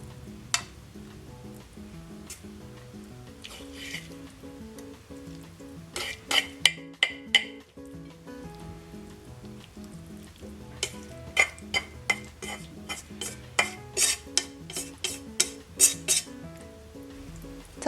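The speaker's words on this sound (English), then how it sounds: "Sprinkle the sauce evenly and mix well." Yakisoba noodles tossed with sauce in a hot pan, a soft continuous sizzle punctuated by sharp clinks and scrapes of utensils against the pan in quick bursts, no voices.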